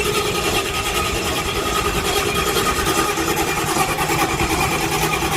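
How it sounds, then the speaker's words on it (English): A Ford Mustang engine runs with a dense, steady rumble that never settles into a clean idle, struggling throughout at close range with no voices. "this Mustang here ain't cranking"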